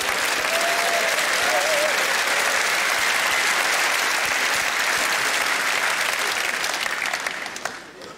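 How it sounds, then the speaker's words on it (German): Audience applauding at a 2008 Olaf Schubert comedy stage show: dense, steady clapping from a large crowd that fills the hall continuously, then thins out near the end. "ich möchte hier keinen Applaus aus der chauvinistischen Ecke"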